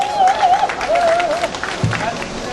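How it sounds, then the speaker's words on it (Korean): An audience at a Korean political rally applauds Lee Chun-seok, with crowd noise and cheering under a loud voice, plus a tonal whistle-like sound early on. "이춘석 도당 위원장께 다시 한번 뜨거운 격려의 박수 부탁드리겠습니다"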